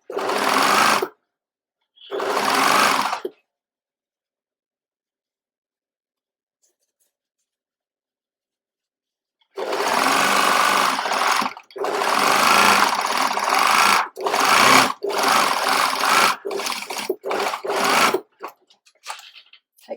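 Sewing machine stitching the side front seam of a corset apron with a 1 cm seam allowance: two short bursts, a long pause, then a sustained close run of stitching broken into quick stop-start bursts.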